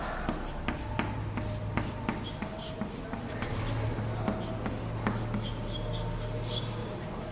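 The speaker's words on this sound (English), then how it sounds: "let me write the trophic level first here" Marker or chalk writing on a classroom board, a quiet stream of scratchy strokes and small taps against a steady low hum, with no one speaking.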